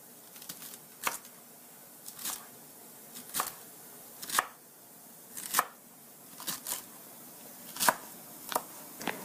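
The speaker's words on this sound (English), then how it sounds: "Cut your celery into small squares." A knife chops celery into small squares on a cutting board, with crisp, separate cuts coming in small clusters about once a second, close and fairly quiet, with no talk.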